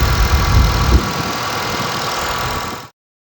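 An RV's dirty engine runs after a battery replacement, a loud steady idling rumble close by that continues for nearly three seconds before cutting off abruptly into silence.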